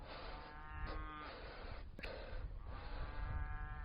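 Herd of black cattle with young calves in a rural field, giving a low, drawn-out moo or two at a distance over steady soft outdoor noise.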